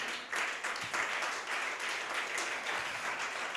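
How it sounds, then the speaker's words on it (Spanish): A church congregation claps in praise during a sermon, a sustained, fairly loud wash of many hands. "Si le puede aplaudir al Señor."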